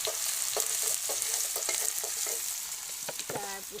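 Potatoes with garlic and ginger stir-frying in a pan, with a steady sizzle and scattered scraping, clacking strokes of a stirring utensil, close and fairly quiet.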